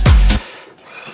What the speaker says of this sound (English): I added some zap sounds.